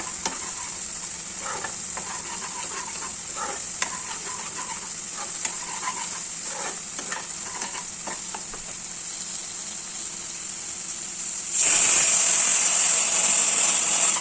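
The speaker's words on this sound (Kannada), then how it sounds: "ಎಣ್ಣೆ ಬಿಡೋವರೆಗೂ ಈ ಥರ ಫ್ರೈ ಮಾಡ್ಕೋಬೇಕು." Mutton gravy masala frying in oil while being stirred, a steady close sizzle with repeated soft scraping strokes, then a louder, brighter hiss swelling over the final few seconds.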